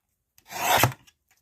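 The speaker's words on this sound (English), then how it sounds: "And we've got a funky edge at this edge, so let's trim that off as well." A craft card's edge is trimmed in one short, close scraping cut lasting about half a second, with no talking.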